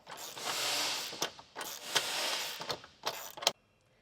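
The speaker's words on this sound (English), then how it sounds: "you can now tighten down your bolts. I am using a T45 Torx bit because it's a lot easier that way." Bolts being tightened down with a T45 Torx bit while fitting a Yakima RibCage track system support on a Jeep Wrangler JL, giving a series of close mechanical whirring and ratcheting bursts separated by short pauses.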